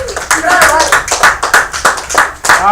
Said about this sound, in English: You guys give Weston a round of applause.